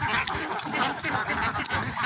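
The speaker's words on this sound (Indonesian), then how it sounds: "Berarti mentok dan bebek ya." A flock of Muscovy ducks and domestic ducks, crossbred, quack and honk close by in a dense, continuous chorus of overlapping raspy calls.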